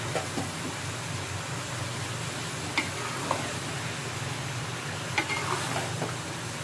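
Cooked cabbage and tomato are stirred and mixed in a pot for vegetable chicken biryani, a steady sizzling hiss under a few light taps of the spoon against the pot.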